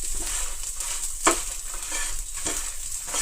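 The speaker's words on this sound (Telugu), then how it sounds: "ఉప్పు, జీలకర్ర, చింతపండు, ఎండుమిర్చి వేయించేస్తున్నాను." Salt, cumin, tamarind and dried red chillies crackle and rattle in a hot pan on low heat, with a steady hiss and occasional stirring scrapes.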